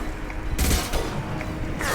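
Gunfire in the video game Mass Effect Legendary Edition: a loud burst of shots hits partway through, then trails off into a rumbling battle wash, with a second burst near the end.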